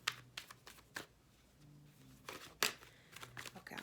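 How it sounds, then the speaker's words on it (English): Tarot cards being shuffled by hand, a series of soft, quick riffling bursts with short pauses between them, close and fairly quiet, with no talking. "I'm going to shuffle and then pull some cards for you guys."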